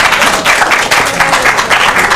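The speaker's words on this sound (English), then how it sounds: "Let's clap for me." A crowd of students claps for a quiz contestant at a school quiz between Ghana Christian International High School and Tender Care JHS, loud, busy clapping mixed with some voices.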